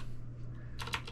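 A brief burst of typing on a computer keyboard as a command is entered, a few quick close key clicks over a low steady hum.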